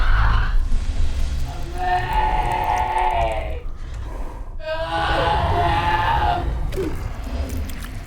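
A mutated bear lets out long, strained, human-like screams, two drawn-out wailing cries separated by a brief pause, loud and eerie over a low rumbling background.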